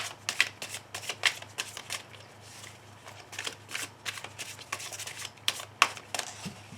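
A tarot-style deck is shuffled and cut for a card reading in quick, crisp riffling bursts, close and fairly soft, with a low steady hum underneath.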